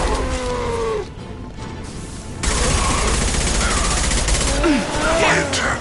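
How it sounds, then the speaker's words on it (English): A high-impact shot and gunfire in Mass Effect 2 Legendary Edition crack in loud bursts over a continuous battle din, with a voice talking over the fighting. "Firing a high-impact"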